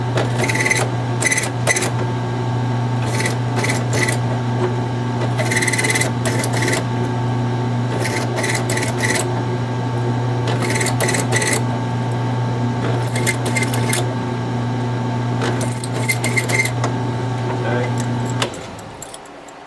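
A Lee APP press running as it swages .30-06 bullets: a steady motor hum with repeated rapid metallic clicks and jangles throughout, loud and close, stopping abruptly near the end.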